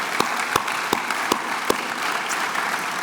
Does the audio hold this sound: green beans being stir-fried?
no